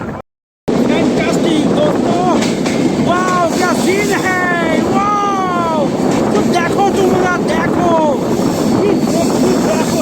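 A continuous loud rumble of the Kirandul Express moving along hilly tracks from Visakhapatnam to Araku Valley, with people talking over it throughout.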